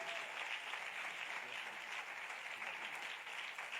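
A church congregation claps steadily and loudly in praise of the Lord, a dense continuous wash of hands filling the space at a distance, with no voices standing out.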